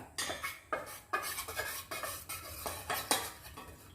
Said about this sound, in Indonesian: Kita aduk menggunakan sendok ini